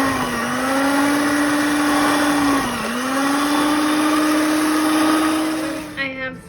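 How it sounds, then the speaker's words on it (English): A small blender whirs steadily as it shreds cooked chicken for a chicken tortilla soup, a loud, close motor drone with a brief dip in pitch midway before cutting off at the end. "blender and shred it this way."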